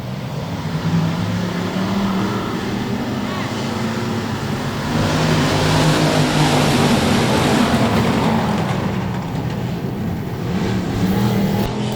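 Race cars roar off the start at Cotton Bowl Speedway during a night of the OctoberFast event, a dense steady engine drone that swells louder midway, with crowd and announcer-style voices blended underneath.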